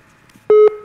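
A telephone busy signal sounds after a call hangs up: two loud, steady electronic beeps separated by a short gap, close and clear.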